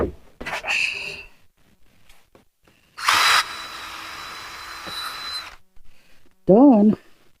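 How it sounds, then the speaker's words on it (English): A power drill bores a hole in a shed workshop during a speaker-pod covering job, giving one steady whirring burst of a few seconds, with brief clicks before it and a short rising-falling spin-down whine after. "Let's drill that hole too."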